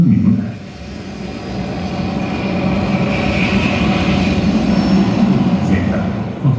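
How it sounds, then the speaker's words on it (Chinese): Aircraft engine roar played as a cinema sound effect through a home theatre projector setup, a loud sustained rumbling drone that swells and holds steady. "到飞机引擎的震耳轰鸣"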